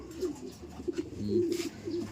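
Pigeons coo repeatedly in low, throaty rolling calls, with several overlapping birds close by; the pigeons are dark check pattern birds of the Alimbuyugin type.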